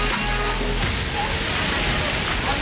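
A waterfall at the Malda water park gives a loud, constant broadband rush of falling water, filling the scene without break.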